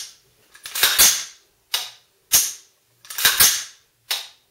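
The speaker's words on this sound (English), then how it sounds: "Now, listen to this when I let go of the trigger. That's your sear reset." M4 rifle trigger sear resetting as the trigger is released, a series of about five sharp, close metallic clicks, some doubled, spaced irregularly with no talking.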